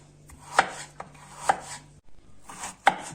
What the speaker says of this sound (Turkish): Evet bu şekilde ince ince patateslerimizi kestikten sonra soğuk suyun içine katıyorum.